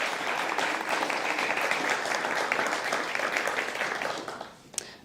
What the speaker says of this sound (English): let's give another round of applause for our graduating class of 984